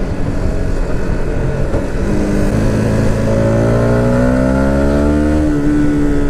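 A 2018 Yamaha MT 125 motorcycle engine revs hard at high RPM, its whining pitch climbing steadily through a gear over a rough, close-up wind-buffeted ride.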